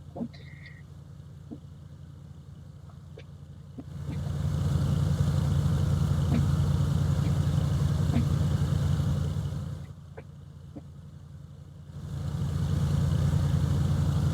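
Beechcraft A36 Bonanza piston engine in the FSX flight simulator while taxiing on grass, a low steady droning hum that swells louder for several seconds, eases back, then rises again, with faint clicks and no talking.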